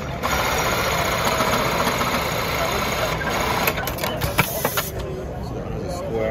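A JUKI MEB-3900J keyhole buttonhole sewing machine running at a trade show, a rapid mechanical chatter and steady motor hum, with people talking over it and crowd noise around.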